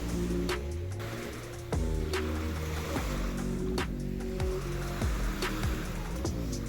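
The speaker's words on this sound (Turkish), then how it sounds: "Mis gibi deniz." Sea waves wash and splash against a seaside promenade nearby in an irregular rhythm of surges, steady and fairly faint, with no voices.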